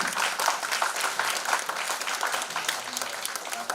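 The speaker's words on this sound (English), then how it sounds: "Give him a round of applause" An audience at the Shri Shri Aniruddhadeva Bhawan event gives a round of applause after a service talk, dense and continuous clapping filling the room at moderate volume with no pause.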